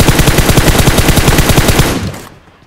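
Rapid automatic gunfire in PUBG Mobile rattles out as a loud, close, evenly spaced burst for about two seconds, then cuts off abruptly into a brief fading tail.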